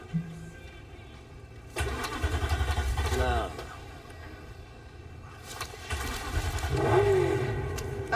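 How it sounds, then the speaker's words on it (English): A car engine starting in Cyberpunk 2077, two cranking surges a few seconds apart, each catching into a rumbling idle with a rising rev, over a quiet game soundtrack hum. "He bypasses the coupling and goes to start up his car."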